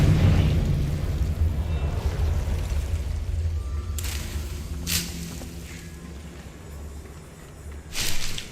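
A Confringo blasting spell goes off in Hogwarts Legacy, giving deep booming bursts with sharp crackling flares, a few separate blasts heard over a low rumbling game background.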